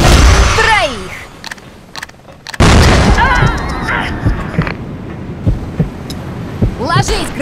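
Loud booming blasts of grenade explosions in CrossFire with whooshing effects, followed by scattered pops and bursts, mixed with excited voices.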